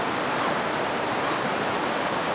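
A river flowing through Linville Gorge, a steady broadband rush of water, loud and close, with no pauses and no voices.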